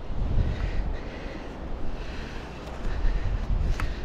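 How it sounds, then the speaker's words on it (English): Strong wind on Cleveleys beach buffets the microphone in a steady, low roar, with gusty rumbling that swells and eases throughout and no voices. "it's very windy today"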